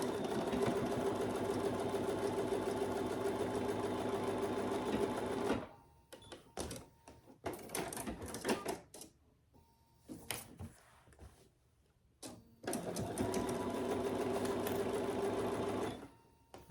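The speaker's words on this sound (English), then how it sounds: "now we're gonna stitch down each side" A sewing machine stitches down the sides of a fabric clutch bag in two long, steady runs at the start and end. Between them come quieter handling clicks and rustles, heard close and clear.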